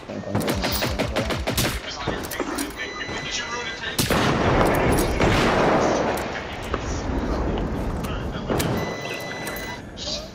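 Rapid gunfire aimed at a giant robot in Generation Zero, loud bursts of repeated shots in quick rhythm, with heavier booming blasts midway, while voices talk over the combat.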